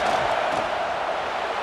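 Steady, distant stadium crowd roar in a football video game, a broad continuous wash of voices with no distinct peaks, heard alone.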